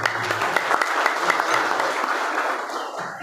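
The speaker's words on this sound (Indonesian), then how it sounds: "Tepuk tangan buat saya." Applause rises from a gathering of Pemuda Pancasila branch chairmen in Banyumas, dense clapping throughout with murmured voices underneath, fading slightly toward the end.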